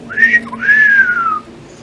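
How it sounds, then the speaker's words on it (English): A man in a farm setting from the video game Loretta whistles two rising and falling notes, a short clear call followed by a longer sliding one, close and alone. "He whistles."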